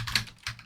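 Two quick keystrokes on a computer keyboard, close and crisp, heard alone with no talk.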